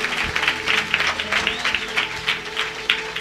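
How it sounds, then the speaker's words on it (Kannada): A congregation at a Sunday church service claps for God's glory, a steady crowd applause with rhythmic peaks, mixed with a faint voice and background sound. "ಚಪ್ಪಾಳೆ ಮಾಡಿ ದೇವರ ಮಹಿಮೆಗಾಗಿ"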